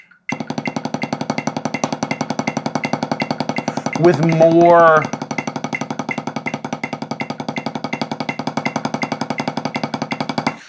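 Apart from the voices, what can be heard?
drum practice pad strokes played with wrist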